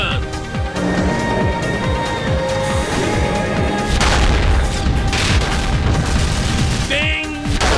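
Spaceship guns firing in an Eve Online space battle, a continuous barrage of booming blasts and rattling shots, loud and unbroken throughout, with voices over the fire.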